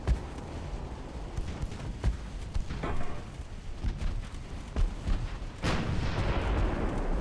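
Armor-piercing shells strike a ship in a naval warfare game, several heavy booming impacts and blasts landing at irregular intervals, loud and close, followed by a sustained roar of damage.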